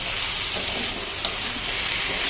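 Tomato lands among fried potatoes in a hot pan, raising a continuous, even sizzle with a single brief scrape near the middle, close and steady.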